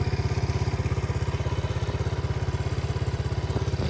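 A 1981 Honda Z50 motorcycle's small engine idles with the choke on, a steady rapid thumping putter, close and even throughout.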